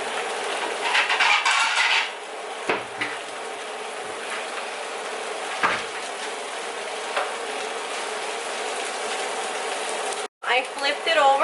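A nopales quesadilla with chicken and cheese sizzling and scraping in a pan as it is flipped, a steady close frying hiss with clatter and a brief dropout near the end.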